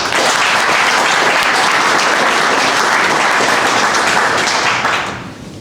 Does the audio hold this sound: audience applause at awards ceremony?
yes